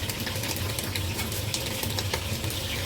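Steady, crackling sizzle of squid frying in hot oil, dense and continuous throughout, close and fairly loud.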